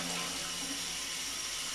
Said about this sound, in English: Rinse out under the hot water tap.